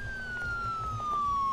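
A police car siren in Enforcer: Police Crime Action wails as one steady, slowly falling tone over a low engine rumble, moderately loud.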